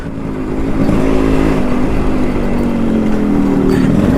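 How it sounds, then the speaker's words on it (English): A restored Yamaha RX two-stroke motorcycle engine revs loudly and steadily up close, a continuous raspy roar with small rises in pitch, no voices over it. "This bike is so much more louder than my Duke that it makes me anxious to get it out in residential area."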